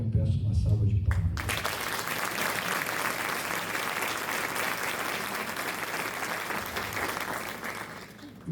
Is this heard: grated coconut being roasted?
no